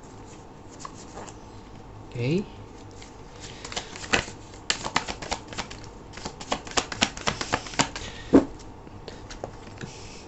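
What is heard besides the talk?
tarot cards being shuffled and drawn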